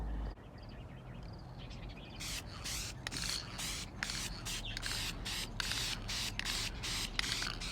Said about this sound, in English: I'm gonna go ahead and prepare my can of paint ready and spray this.